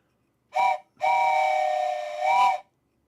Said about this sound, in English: was that whistle the same as the whistle I just did?